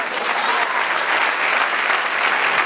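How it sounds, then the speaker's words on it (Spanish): A congregation at a Spanish-language church service breaks into loud, dense, steady applause that fills the space without pause. "Denle un aplauso al Señor."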